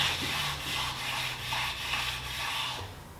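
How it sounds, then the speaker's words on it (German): Japanese sharpening whetstones ground flat against each other, a close, rhythmic scraping rub repeating back and forth about every half second, alone without talking. "die Steine auch schleifen"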